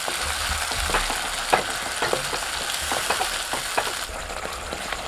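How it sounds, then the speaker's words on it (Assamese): Tomato paste with spices frying in a pan for a chicken kofta curry, a continuous close sizzle broken by scattered crackles and stirring scrapes, with no talking. "বিলাহীখিনি প্ৰথমতে অকণ ভাজি লওঁ"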